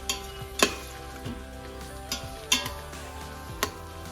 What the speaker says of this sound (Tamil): இது நல்லா இஞ்சி பூண்டு பேஸ்ட் அந்த வாசனை போக நல்லா வதங்கிடுச்சு